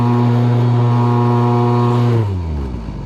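A gas-engine-swapped Razor dune buggy revs hard with a loud, steady harmonic drone that drops in pitch as it pulls away, trailing off after a couple of seconds.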